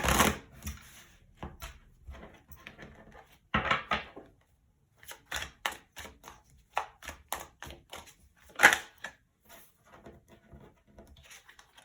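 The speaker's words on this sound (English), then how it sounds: "let's get started with shuffling the cards" Tarot cards being shuffled by hand: a string of soft, papery riffles and taps in irregular bursts, close up and fairly quiet, with no talking.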